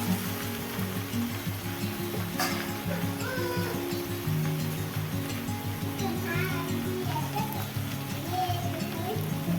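Okra (bhindi) with salt frying in oil for a Gujarati-style bhinda shaak, giving a steady low sizzle that runs the whole time beneath ongoing talking.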